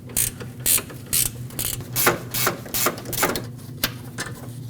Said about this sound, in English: On the front right here, there's a 10mm bolt that you can access with a wrench. Remove it.